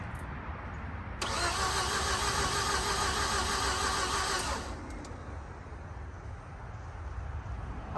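Green automatic Mazda RX8 rotary engine, unstarted for 2.5 years, cranking hard on the starter for about three seconds, a loud buzzy whir that cuts off into a quieter hum.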